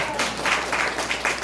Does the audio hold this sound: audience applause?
yes